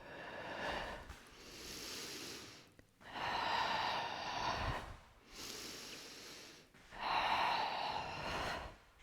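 Forceful breaths blown out during a Pilates workout, four long rushing exhales in a steady rhythm, close and fairly loud, each separated by a brief pause.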